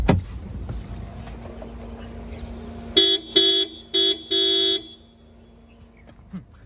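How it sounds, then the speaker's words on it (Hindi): A Maruti Suzuki Baleno Delta hatchback sounds its horn in four short, loud honks, the last held slightly longer, over a low idling hum with no talk. "गाड़ी का हॉर्न सुनिए आप"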